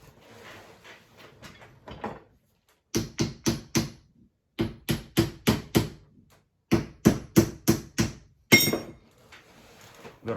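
A hammer taps pins through a knife handle in sharp metallic strikes, grouped in quick bursts of four to six blows separated by pauses, close and crisp over a quiet background.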